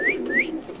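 Show-quality pigeons for sale coo close by in a short burst, with two rising whistled notes over a low soft coo.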